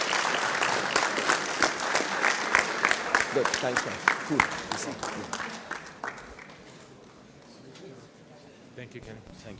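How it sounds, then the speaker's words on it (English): An audience at a tech forum claps in a brisk burst of applause that fades over several seconds, while someone speaks briefly over it. "Give a round of applause."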